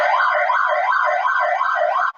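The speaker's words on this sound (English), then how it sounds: "So say for example, I open like this and then I walk inside. It just triggers. It just triggers the alarm." A workshop door alarm sounds loud and close, a warbling electronic siren sweeping up and down in regular cycles for about two seconds before cutting off abruptly.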